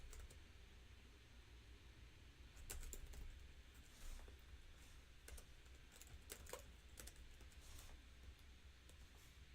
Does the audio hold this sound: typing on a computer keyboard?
yes